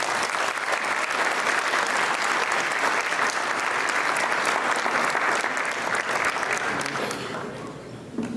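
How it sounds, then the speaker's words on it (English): Sustained audience applause fills a formal evening community dinner hall, steady dense clapping that tapers off toward the end. "Please welcome Ambassador Ashok with a round of applause"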